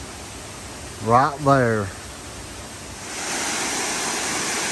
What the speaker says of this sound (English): The money shot of Beaver Brook Falls